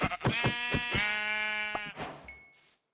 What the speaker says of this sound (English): I punched a sheep to death because I needed the wool for the bed.